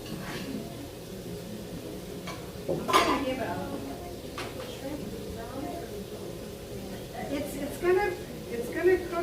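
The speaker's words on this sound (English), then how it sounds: "Another stir." A utensil stirs shrimp and rice in a cooking pot, making a few scraping clinks against the metal, with one louder scrape early on, under a steady kitchen background and a speaking voice.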